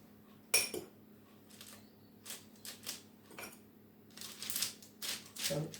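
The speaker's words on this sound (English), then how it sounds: "you get a fork and you dip the fork into some flour and just press down on your cookie" Fork pressing down on flour-dusted chocolate chip cookie dough on a baking tray, giving a scattering of faint metallic clinks and soft taps, irregular and close, in an otherwise quiet kitchen.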